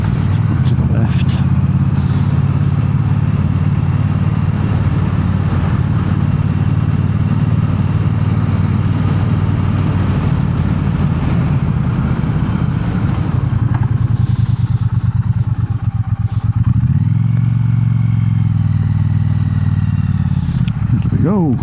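A Triumph Bonneville T120 motorcycle engine runs steadily and loud in traffic, a continuous close rumble that shifts in tone partway through, with voices talking over it.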